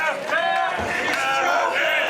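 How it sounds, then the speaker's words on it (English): Loud wrestling crowd at a dog collar match in Orono yelling and cheering in a dense, sustained roar, with shouted voices rising above it throughout. "Jaeger looking for some support from the Orono crowd here tonight"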